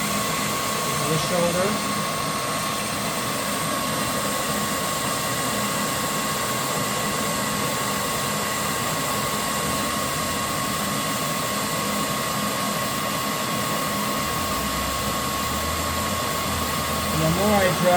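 Hair dryer drying the shoulder of a clay bottle with a narrow neck on a pottery wheel, a steady close-up blowing whoosh running the whole time under a person talking.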